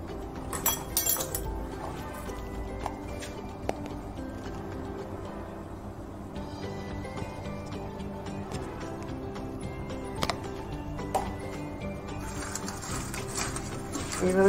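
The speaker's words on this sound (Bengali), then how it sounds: "এইভাবে মাখিয়ে পটলগুলোকে আমি ভেজে নিব ভালো করে" Pointed gourd pieces being tossed with salt and turmeric in a bowl, giving continuous close clinks, knocks and rattles of vegetables and utensil against the bowl at moderate level, no speech.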